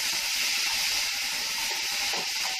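Tomatoes cut into large chunks sauté in a hot pan, giving a steady, close, even hiss of steam and sizzle with no talking.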